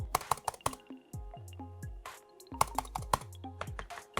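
Laptop keys typed on a Fujitsu ultrabook, the longer keys included, give a close run of clicky taps in uneven bursts, with a steady low tone under parts of it and no voices.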